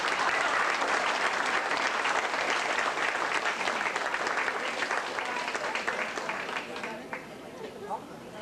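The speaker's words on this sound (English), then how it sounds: "And I think that deserves an applause." Banquet guests at a 25th anniversary dinner break into loud, sustained applause that fills the hall, then gradually thins and fades toward the end, with faint chatter underneath.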